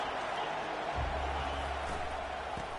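A stadium crowd at a football game roars steadily in a dense, continuous wash, with a brief low thump near the middle and no clear voices on top.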